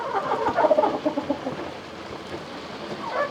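Several hens cluck in a busy, overlapping chatter inside a coop, moderately close, with short bursts of higher calls rising and falling throughout.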